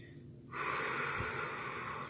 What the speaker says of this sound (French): vous inspirez et vous expirez en relâchant tous vos muscles, tout votre corps